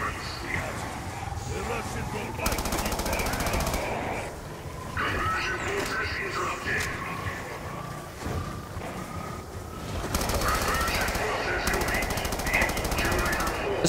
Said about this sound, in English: This gun feels and sounds so different, bro